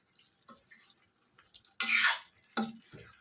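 Okra kurma masala being stirred in a pan: a couple of short bursts of scraping and sizzling, the first longer and louder, with soft clinks and quiet kitchen noise in between. No one speaks.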